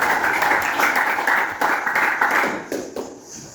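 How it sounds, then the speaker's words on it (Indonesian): A classroom of students claps for a classmate, a dense patter of many hands that fades out within a few seconds, close and lively. "kita beri tepuk tangan untuk Israel"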